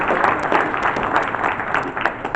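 A crowd claps and applauds in a steady, dense burst at a Gen Con collectibles auction, right after a winning bid, filling the room without pause.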